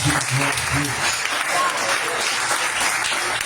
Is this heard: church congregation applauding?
yes